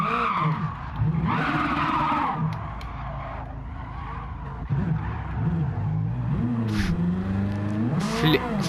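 A lightweight 900 kg Alfa Romeo 4C with a swapped 740 hp Ferrari 458 engine, drift-tuned in Gran Turismo 7, slides through corners with loud sustained tire squeal over a revving engine whose pitch rises and falls repeatedly.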